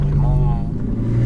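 Engine of a stage 4 Audi RS3 making over 700 hp, heard from inside as it cruises on a four-lane road, with a deep steady drone and a brief rising tone, under someone talking.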